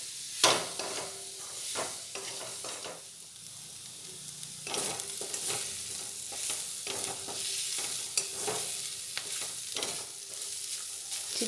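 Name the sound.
stirring chicken with cornflour in a pan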